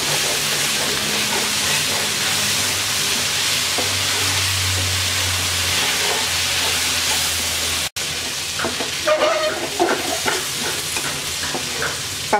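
Okra (bhindi) fries in a pan on medium heat with a steady, loud sizzle, briefly cutting out and then resuming with stirring scrapes and spatters.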